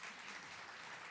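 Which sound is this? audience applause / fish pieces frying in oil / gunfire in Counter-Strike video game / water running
audience applause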